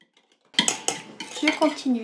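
A utensil scraping and clinking against a bowl while a water phase is stirred into an oil phase for a homemade coconut conditioner, a few close knocks and scrapes after a brief quiet start.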